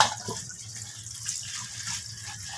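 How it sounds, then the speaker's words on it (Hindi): Cold water is poured over drained macaroni, a steady splashing, gushing stream running close and fairly loud for a few seconds with no talk. "अब हम इसमें ठंडा पानी डालेंगे ताकि ये जुड़े ना।"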